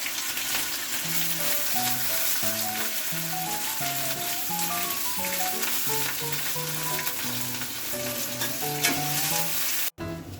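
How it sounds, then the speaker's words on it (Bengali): Onions frying with a dense, steady sizzle in a pan for kabuli chana, lightly salted, sounding close and continuous, with melodic background music playing throughout. "আমি পেঁয়াজটা যখন ভাজছি"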